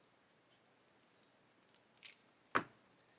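Wire cutters snip through a short piece of wire in a quiet room, making one sharp, close click near the end, preceded by a few faint handling taps.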